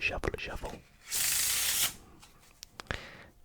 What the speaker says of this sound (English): what we're going to do with these cards is we can give them a shuffle.